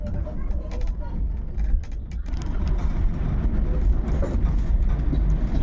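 Padatik Express (12378, New Jalpaiguri to Sealdah) rolling along after leaving Kishanganj station, giving a steady, close low rumble with faint rattles throughout and no clear talk.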